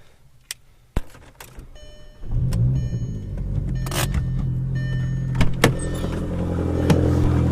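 A turbocharged car sits in quiet with a few clicks before the engine cranks and catches, then settles into a steady, close, rumbling idle with occasional small knocks.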